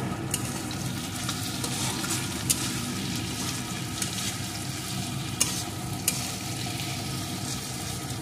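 Pointed gourd (potol) fry with tomato sauce stirred in a pan, a steady close sizzle with occasional crisp spatula clicks against the pan, no voices.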